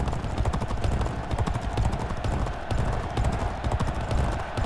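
Galloping hooves of a racehorse in the G1 Jockey 4 video game pound in a fast, continuous drumming rhythm, loud and close, with no voices over them.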